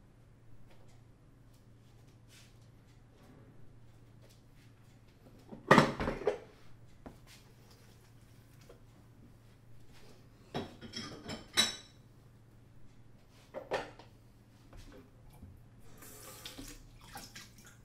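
Dishes, pots and cutlery being washed at a sink: faint running water under scattered clinks and clatters, with a sharp bang near the start and busier bursts of rattling cutlery later, close and with no talking.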